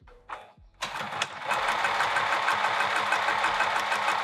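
Sewing machine running steadily while top stitching a vinyl handbag at a 3 millimeter stitch length, a fast continuous whirring hum after a few brief handling noises, close by.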